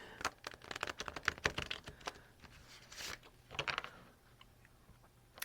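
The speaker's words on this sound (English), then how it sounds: "I'm going to shuffle these real quick." Wisdom from Within oracle cards riffled and shuffled by hand, with dense bursts of papery clicks and flutters in quick uneven runs, close and fairly quiet, with no talking.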